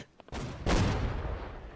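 Musket and cannon gunfire from Holdfast: Nations at War during a naval battle event: a sharp shot followed by a heavier booming blast that rolls on and decays, loud and close with no talk.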